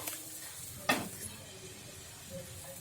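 Semolina dosa batter hits a hot oiled pan with a soft sizzle, followed by a brief scrape of the spoon spreading it, close and quiet over a low steady hiss.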